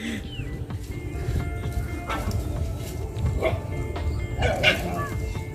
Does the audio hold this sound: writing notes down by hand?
no